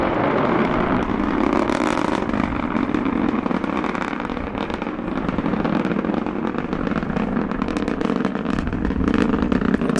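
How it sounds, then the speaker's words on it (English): An Antares rocket lifting off, a dense continuous roar full of crackling bursts, loud and steady throughout with no voices. "Antares lifts off with no contrails, clear and straight."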